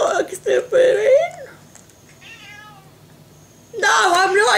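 A pet cat, upset during a wizarding-themed pin unboxing, gives a brief thin meow in a quiet gap between bursts of close talking.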